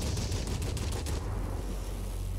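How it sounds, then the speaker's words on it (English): Aircraft cannon strafing fire in World of Warplanes, a loud rapid burst of heavy automatic shots lasting about a second, followed by a rumbling engine drone. "I'm gonna do a quick strafe with my cannons."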